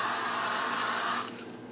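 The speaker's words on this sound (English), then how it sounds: "Spray it with cooking spray." Cooking spray hisses steadily onto aluminum foil for about a second, then cuts off abruptly, close and loud with no talking.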